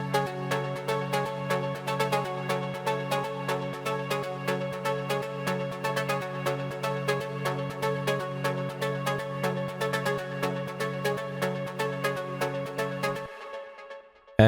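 A steady afro house outro arrangement of sustained bass tones, plucked synth notes and crisp hi-hat ticks rolls on evenly, then the low drone cuts out near the end.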